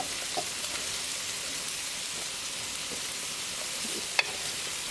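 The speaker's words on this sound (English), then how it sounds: "it's a hot boiling water" A steady hissing, bubbling sizzle of boiling water continues evenly, with a soft clink of a utensil near the end.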